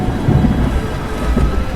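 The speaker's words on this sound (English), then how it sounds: "The storm's getting worse." Rain pours steadily during a worsening thunderstorm while low thunder rolls underneath, loud and continuous, without speech.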